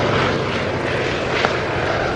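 Fairey Swordfish biplane making a final flyby before landing at an air show at Yeovilton, a loud, steady propeller engine drone throughout the brief moment.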